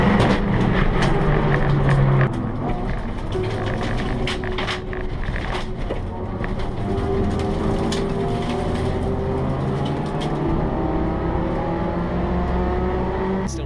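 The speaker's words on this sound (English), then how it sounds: "now James Wilson in the Peugeot, who was involved in all those incidents at the start and weaved his way through but lost loads of places" Peugeot touring car racing at Silverstone in a CTCRC event, engine droning steadily under a continuous wash of track noise, fairly distant and sustained throughout.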